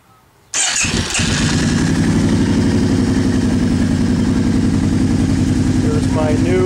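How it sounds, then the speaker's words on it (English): A 2008 Kawasaki Brute Force ATV fitted with an HMF optimizer controller starts after a brief quiet moment and settles into a loud, steady, close-up engine run with a throbbing low rumble that continues to the end. "Here's my 2008 Kawasaki Brute Force. Here's my new HMF optimizer"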